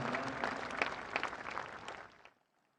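An audience at a government ceremony inaugurating the Seva Teerth complex gives brisk, dense applause. The clapping stays steady for about two seconds, then fades quickly to silence.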